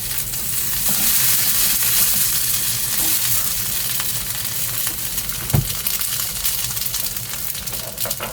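Food sizzles and fries steadily in a pan, loud and close, with a brief thump as it is flipped partway through, cooked inside a car on a stormy night.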